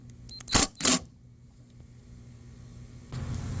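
Socket wrench turning a motor mount bolt under a 2013-2018 Nissan Altima, giving two short, sharp metallic clicks close by near the start, then a quiet stretch before a low rustle returns at the end.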